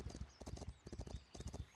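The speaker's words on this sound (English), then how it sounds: "look at the horses walking over the beach here" Horses walking across a beach in the medieval village-building game Foundation, their hooves clip-clopping in a steady, overlapping rhythm at close range with no talk over it.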